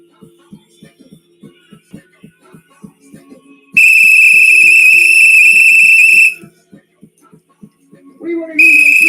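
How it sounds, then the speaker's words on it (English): Loud, sustained high whistle blasts at a DJ event in Tasmania, one long shrill tone lasting a couple of seconds and another starting at the end, over a soft rhythmic beat. "Where's those whistles and horns?"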